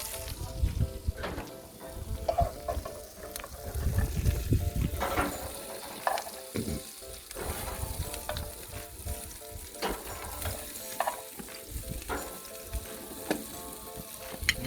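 Butter-coated asparagus sizzles and crackles on a barbecue grill beside steaks, a steady loud frying hiss with occasional pops and clatter from handling.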